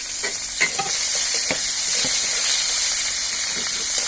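Chopped onions frying in oil in a pan, a loud continuous sizzle and hiss broken by a few sharp crackles and stirring clicks, with no one talking.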